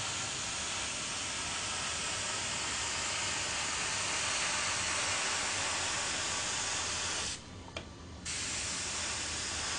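A Badger Series 200 airbrush sprays paint in a steady, close, continuous hiss that runs almost the whole time, broken by one brief pause near the end before resuming.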